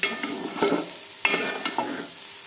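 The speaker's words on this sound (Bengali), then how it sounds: "এদিকে ভাজা ভাজা হয়ে গিয়েছে আর এদিকে সবজিটাও অনেকটা ভাজা হয়ে গিয়েছে" Vegetables frying in a pan with dry red chilli and turmeric spice, stirred with a utensil: a soft continuous sizzle broken by a few sharp scraping stir strokes, close and without talk.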